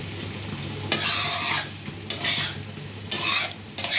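Vrat poha roasts in a hot pan while a spoon stirs it in bursts, with soft sizzling between the louder scraping strokes and a low steady hum underneath.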